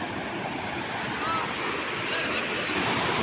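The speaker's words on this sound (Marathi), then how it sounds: "खूप सुंदर अशा गडबडी घेत पाणी वाहतो आहे" Water rushing down the Jambhali waterfall stream at Korchi: a steady, continuous broadband roar like a stream pouring down rocks, with some wind noise on the microphone throughout.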